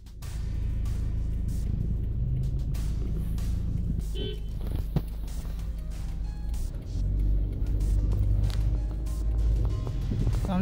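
A car driving home along a one-way street, steady close engine rumble with road noise and slight changes in revving, continuous throughout.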